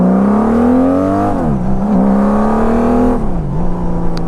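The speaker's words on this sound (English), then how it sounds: "That 6 boxer engine is amazing." A motorcycle's six-cylinder boxer engine revs hard up close, its smooth droning tone climbing, dipping and climbing again through two throttle blips, with no talking.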